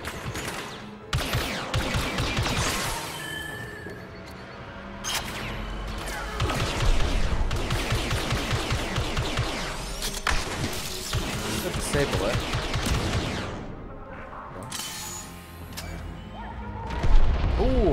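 Turret gunfire in Star Wars Battlefront 2 rattles in dense, sustained bursts, with crashes and explosions layered throughout, and someone talks over the battle.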